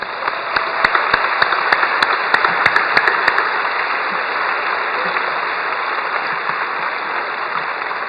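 Audience applause in a university arena at an international choral festival finale concert, a steady wash of many hands clapping that stays loud and even throughout, with a few sharper claps standing out near the start.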